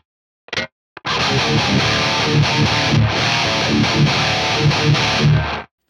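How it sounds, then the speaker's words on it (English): Heavily distorted electric guitar through a high-gain amp model, a brief stab then a sustained, saturated riff with thick gain and chugging low notes, played alone. "That's cool sounding. That's got a lot of gain."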